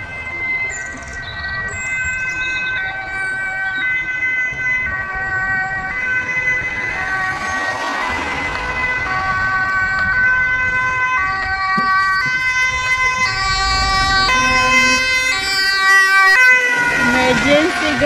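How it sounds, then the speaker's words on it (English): An ambulance siren on a street in Amsterdam West wails loudly and steadily, its rising and falling electronic tones holding throughout over road traffic noise, with a voice briefly heard. "Ambulance."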